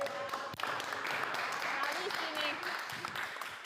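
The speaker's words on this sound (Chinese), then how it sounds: "请大家再次为他们点赞和鼓掌好吗" An audience applauds four students at a Veneto–China promotional event in Rovigo, with steady, dense clapping running under a speaking voice.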